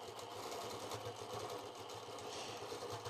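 A sewing machine hums in a fast, even run while quilting a stitch-in-the-ditch line around a center circle, a soft, constant mechanical whirr with no talking.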